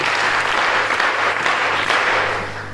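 Church congregation applauding together, a dense, steady wash of clapping from many hands that holds loud throughout and eases slightly at the end.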